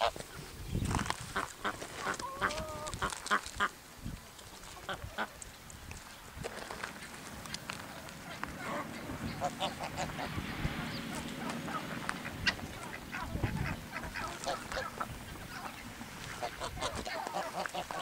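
A flock of geese honks and cackles continuously, with dense overlapping calls and occasional louder honks, close by; a person speaks briefly amid the noise.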